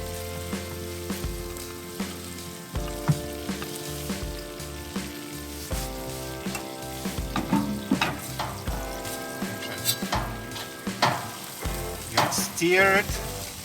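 Onion drops into very hot oil in a kazan where meat has already cooked for Uzbek plov, sizzling loudly and continuously with stirring clatter while background music plays underneath.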